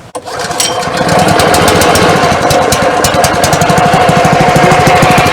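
A small petrol engine on a chemical sprayer sputters to life after a brief start, then settles into a steady, loud, rattling idle that continues throughout.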